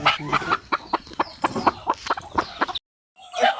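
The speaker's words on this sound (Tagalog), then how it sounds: "Yan na tayo na dakop nga manok guys." A chicken clucks rapidly and repeatedly up close, a steady run of sharp clucks that cuts off abruptly, then resumes briefly.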